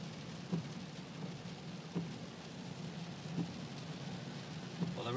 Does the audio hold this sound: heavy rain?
yes